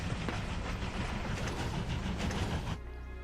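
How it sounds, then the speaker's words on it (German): A train in the video game World of Final Fantasy rumbles past with a dense, rattling clatter, loud and steady for nearly three seconds before cutting off to quiet background hum. "Oh, ein Zug."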